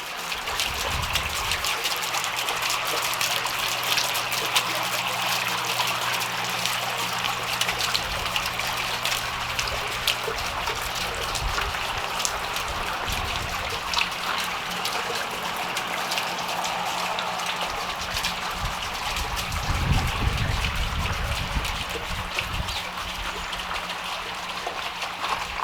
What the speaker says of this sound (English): We've got our water feature in the middle.